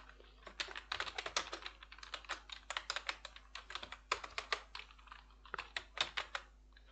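Computer keyboard typing a comment reply, with rapid, irregular clusters of close keystrokes running steadily throughout and no voices.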